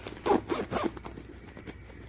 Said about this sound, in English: Zips just fine.